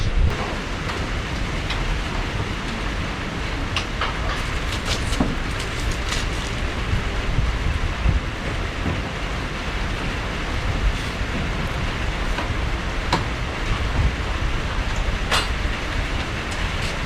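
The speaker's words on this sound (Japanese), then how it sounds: "しかし雨が降ってきちゃったじゃねえかよ。" Steady rain falls outdoors, a dense, continuous hiss that holds at an even loudness throughout with a few faint clicks and taps, and no voices.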